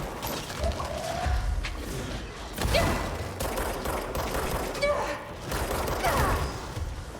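Heavy, continuous gunfire in the action game Control, loud mechanical bursts and clanking impacts repeating throughout with little pause, with a voice speaking briefly.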